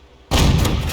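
A StuG IV assault gun in a tank video game fires a single round, a sudden loud close-up blast that hits after a quiet moment and rings out with a heavy booming tail.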